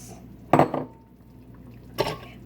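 Ice is dropped into a container while making strawberry lemonade: two sharp clattering bursts of cubes striking the vessel, about a second and a half apart, close and loud over quiet background with no talk.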